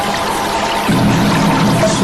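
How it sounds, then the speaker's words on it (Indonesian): Water gurgles and pours in the Cakra river, a loud, steady, close rush of flowing water that deepens slightly partway through, with no voices. "Suara gemericik naik kali Cakra itu mengingatkan aku pada Dewi Asti"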